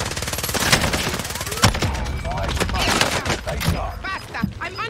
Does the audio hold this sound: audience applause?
no